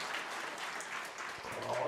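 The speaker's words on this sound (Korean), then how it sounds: "박수 한번 줘요." Brief, fairly faint applause from a church congregation during an early-morning prayer service, a short burst of clapping with some background voices.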